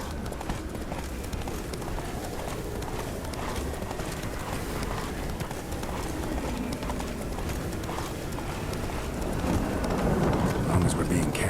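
Roach the horse galloping in The Witcher 3 video game, with a continuous quick clatter of hooves amid a dense, rumbling ambient wash that grows slightly louder toward the end.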